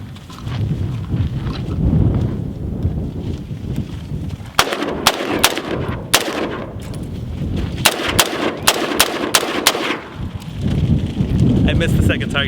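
A shotgun fired outdoors: a run of loud, sharp blasts, several in quick succession, then a few more spaced apart, with voices and background noise between the shots.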